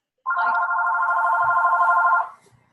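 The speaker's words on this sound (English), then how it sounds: "Who's got a phone ringing?" A telephone rings close by in one steady electronic tone that lasts about two seconds and then cuts off, with the room otherwise quiet.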